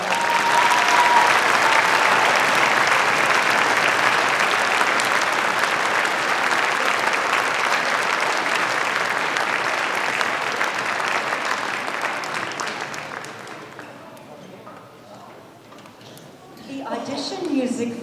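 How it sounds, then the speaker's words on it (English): Audience applause at a school spring orchestra concert, a loud, dense crowd clapping that carries on steadily for about twelve seconds before thinning out, with scattered claps near the end. "So let's give them a round of applause for all of them."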